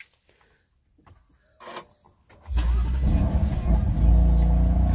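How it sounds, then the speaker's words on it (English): A car engine cranks and catches after a few quiet clicks and rustles, then settles into a loud, steady idle close by. "Car starts with the key out of the bag."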